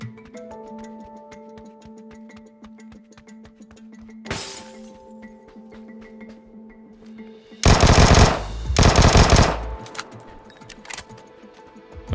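Vector submachine gun firing in PUBG on the Miramar desert map in first-person mode, rapid bursts of sharp, loud shots with two dense full-auto stretches over a steady ticking background.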